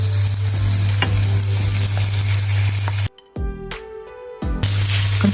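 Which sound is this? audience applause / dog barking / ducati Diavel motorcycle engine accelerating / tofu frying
tofu frying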